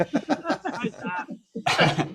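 A single harsh cough bursts out near the end, right after a stretch of someone talking.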